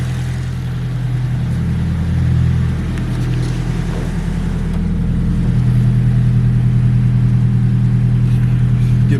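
A 1995 Nissan 180SX Type X's SR20DET engine runs close by at a steady idle, then is revved a couple of times, its low rumble briefly swelling before settling back down.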